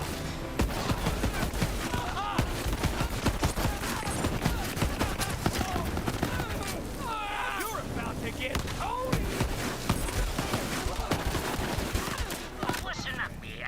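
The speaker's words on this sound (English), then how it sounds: "Yeah, this sniper rifle sucks too." Gunfire in the Borderlands video game, including sniper rifle shots, pops in rapid, dense bursts throughout, mixed with other effects and game music, while a voice talks over the action.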